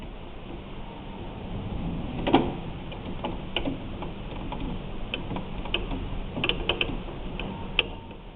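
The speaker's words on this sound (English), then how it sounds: "Get that one screw, and we're going to put that screw back in." A screw being driven back into the head of a cap machine with a hand screwdriver, heard as scattered small ratcheting clicks and mechanical ticks over a low steady hum, close and fairly quiet.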